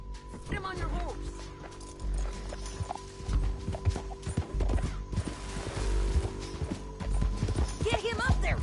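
A horse in the video game Red Dead Redemption 2 clip-clops at a quick, rhythmic pace with occasional neighs, mixed under a music score and game voices calling out in tense dialogue.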